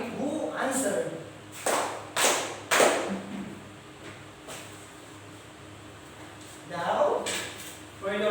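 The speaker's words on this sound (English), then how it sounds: "give 3 claps to your classmate who answered" Classmates in a classroom clap three times together, three short bright bursts in a row, with quieter room noise and a teacher's voice around them.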